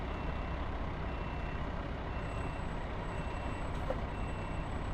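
A fire truck backs slowly toward a fire hydrant, its engine rumbling steadily with a faint high reversing beep running through the second half, and no voices.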